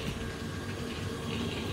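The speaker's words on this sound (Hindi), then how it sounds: "तो पानी कहाँ से आ रहा है, एसी का पानी गिर रहा है" Water running off an air conditioner makes a steady, soft trickling splash that continues without a break.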